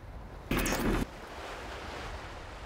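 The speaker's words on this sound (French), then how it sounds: "Oh là là, quel vent, quel vent!" Strong wind battering a microphone outdoors in Fréjus, a steady roaring rush with a sudden harsh blast of buffeting for about half a second near the start, then settling back to a constant blustery hiss.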